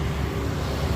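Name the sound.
many motorbikes passing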